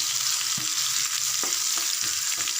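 Onions and curry leaves frying in oil with popping mustard seeds for a Tamil egg poriyal, a steady close sizzle broken by a few soft spatula knocks against the pan.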